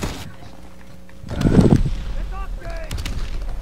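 Gunfire in a World War II video game: a heavy burst of shots rises mid-clip, with someone speaking faintly alongside and busy game sounds continuing after.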